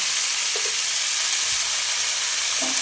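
Gime greens and potato fry in a pan with salt and turmeric, a steady broadband sizzle with faint stirring scrapes and no talk.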